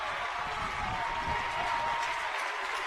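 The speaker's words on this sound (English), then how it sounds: "Fans starting to clap, hoping for a strikeout." Fans at a high school baseball championship game clap together in a steady, moderately distant patter that carries on for a few seconds.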